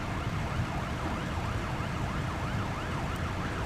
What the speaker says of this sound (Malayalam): സൈറൻ ഓഫാക്ക്.